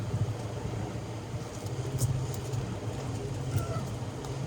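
A truck backing up on a slant to hitch under a new trailer, its engine a steady low idle rumble heard close throughout, with no other distinct events.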